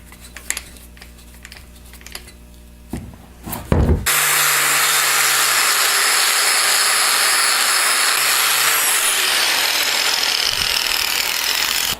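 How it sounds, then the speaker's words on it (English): An aluminum Mustang part being polished with a Scotch-Brite fine wheel: after a few seconds of quiet handling noises, a loud, steady buffing whir starts and runs to the end. "Here I'm going to change it up to a Scotch-Brite fine wheel."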